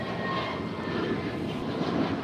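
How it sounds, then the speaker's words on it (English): An Alaska Airlines Airbus A321neo departs LAX bound for Seattle, its engines a steady, loud broadband roar that swells slightly toward the end with no voices over it. "That is Alaska 387 departing to Seattle on an A321neo"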